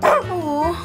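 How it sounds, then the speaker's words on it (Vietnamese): A dog gives a single short bark indoors, sharp at the start and then a drawn-out tonal whine-like tail, close and fairly loud. "Có chó trong nhà á?"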